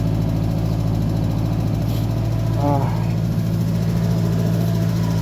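A Barguzin van's engine idles just after a cold start in freezing weather, a loud, steady low drone close by, with people talking nearby.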